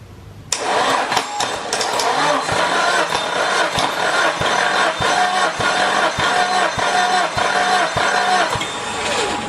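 Nissan SR20DET engine cranking over on the starter during a compression test, a steady rhythmic chugging of even compression pulses that begins abruptly and runs loud and continuous for several seconds.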